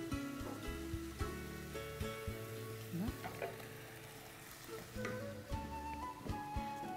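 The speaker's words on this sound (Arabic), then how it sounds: "ننزل معاها القرع نشوحه كمان، الاثنين يتشوحوا مع بعض" Squash sizzles and crackles steadily in a hot pan up close, with occasional clinks and scrapes of stirring throughout.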